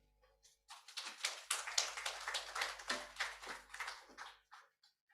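Thin, lukewarm applause from a small conference audience, a few scattered hands clapping unevenly for about three seconds before trailing off into silence.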